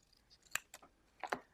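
Scissors snipping paper for a shamrock candy box craft, a handful of short, crisp cuts in two small bursts, close up and fairly quiet with no talking.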